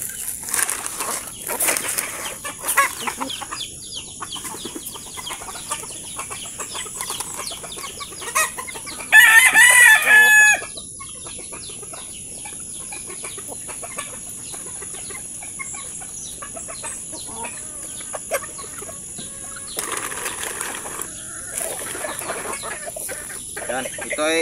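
Native chickens in a backyard coop cluck steadily and crow, with a loud, close burst of crowing partway through and some wing flapping over a constant high hiss.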